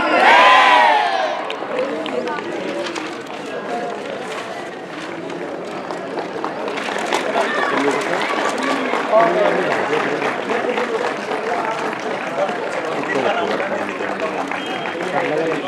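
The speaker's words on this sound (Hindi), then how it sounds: "देखो कितनी जोरदार ताली, जोर से" Crowd at a state-level International Yoga Day 2023 event, a loud sustained mix of clapping, cheering and shouting voices that swells midway and continues throughout.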